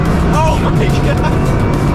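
A Bugatti Chiron Super Sport accelerating hard, its engine roaring loud and close with rising tonal sweeps, while people talk over it inside the car.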